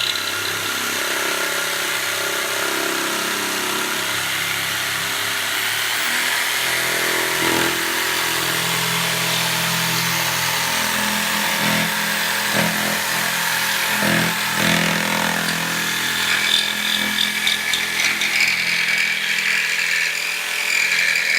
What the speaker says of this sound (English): we're going to speed it up. This is scroll cutting.